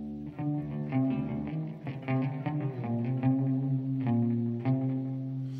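A clean electric guitar played through a T-Rex Binson Echorec echo unit sounds out as a melodic line of picked notes, with the repeats trailing behind each note. It is fairly soft, and no one talks over it.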